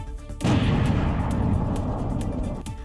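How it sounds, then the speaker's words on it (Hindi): A loud, powerful explosion at an Iranian missile tunnel site bursts in with a sharp onset and rolls on as a dense, sustained rumble for over two seconds, with no voices. "दूसरी तरफ एक जोरदार धमाका, जिसके बाद सब कुछ मलबे में तब्दील हो गया"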